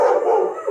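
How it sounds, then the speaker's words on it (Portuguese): Neighbour's dogs at a house gate giving a single short, close howling bark, brief and loud. "meu vizinho solta os 32 cachorros dele e eles vêm aqui no portão da minha casa brigar com o Ventania e com o Snow."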